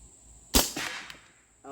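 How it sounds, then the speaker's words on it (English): A Hatsan Hades airgun fires once at a play-doh target, a single sharp close crack with a short decaying tail, followed by faint mechanical clicks. A steady high whine runs underneath. "Now with the Hades, I want to try a full auto on that light blue one"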